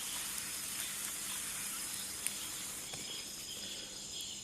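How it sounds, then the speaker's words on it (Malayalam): A dosa fries in slightly too much oil on a pan during a solo night camp on a mountain above the clouds, giving off a faint, steady, close hiss of sizzling with a few tiny pops. "അങ്ങനെ നമ്മുടെ അവസാന ദോശയും ചുട്ടിരിക്കുകയാണ്."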